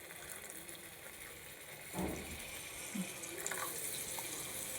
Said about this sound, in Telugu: కొద్దిగానండి వాటర్ వేస్తున్నానండి